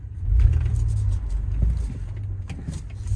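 A 1999 Toyota 4Runner creeping slowly in two-wheel drive toward a hill, its engine a steady low rumble that swells and eases, with no talk over it.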